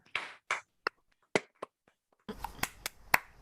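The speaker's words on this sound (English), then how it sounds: "Before we go to Q&A, may I suggest that we open up our microphones and give Jeff a big round of applause." Online meeting participants clapping over their open microphones: sparse, isolated sharp claps at first, then a denser cluster of overlapping claps from several connections near the end.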